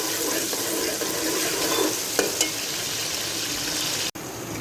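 Chopped onions hiss in hot oil as a steady, close sizzle for palak keema, with a couple of brief clicks and a short scrape near the end.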